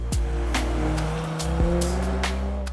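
A 2022 Porsche Macan GTS taking corners, its engine droning steadily from inside the cabin with shifting pitch as it accelerates, along with a few sharp thumps and brief tire noises.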